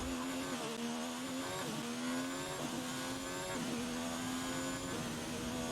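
A Formula 1 car in the F1 2019 game howls around Bahrain in a continuous, loud high-pitched engine wail. The pitch climbs and drops abruptly with each gear shift.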